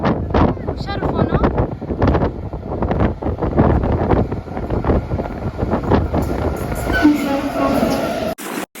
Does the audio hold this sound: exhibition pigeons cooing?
no